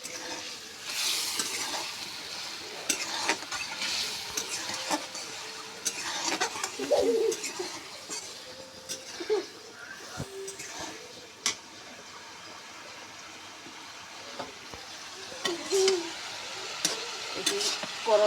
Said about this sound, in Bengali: করলা ভাজাটা আমার হয়ে যাচ্ছে